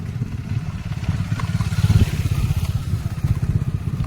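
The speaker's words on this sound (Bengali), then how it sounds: "দেখুন বাইক করে সব আসছে একের পর এক" Motorcycles arrive one after another, a nearby engine rumbling with a fast, throbbing putter, idling and rolling in at close range.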